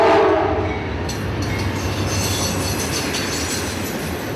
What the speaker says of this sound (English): Only 30 feet from the tracks, you can hear why this is Amtrak's premier train.